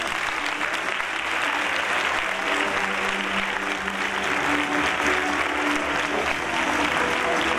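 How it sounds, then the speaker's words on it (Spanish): A crowd gives a loud, sustained round of applause as a tribute at the Guardamar queens and ladies election, dense steady clapping filling the whole stretch without a break. "pido un fuerte aplauso"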